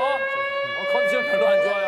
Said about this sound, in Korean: 사이렌 갑니다